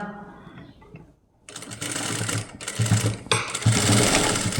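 A sewing machine runs in steady, continuous bursts while stitching a children's crop top, starting after a quiet pause with brief breaks between runs, close and fairly loud.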